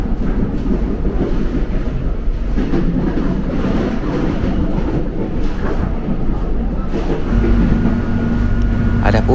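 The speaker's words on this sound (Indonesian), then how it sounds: "saya bersama keluarga naik kereta dari stasiun Manggarai" An airport rail link train riding out of Manggarai station in Jakarta, heard from inside the carriage as a steady, loud rumble and rattle of wheels on track with a faint clickety-clack, continuous throughout, with no talking in it.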